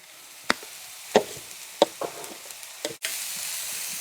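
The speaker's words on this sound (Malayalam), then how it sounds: "എണ്ണ ചൂടായപ്പം ഇതാ ഒരു സവോളയാണ് നമ്മൾ കൊത്തി അരിഞ്ഞ് വെച്ചിരിക്കുക" Chopped onion dropped into hot oil in a pan, giving a handful of sharp clattering hits and then a steady hiss of frying that holds to the end, close and moderately loud.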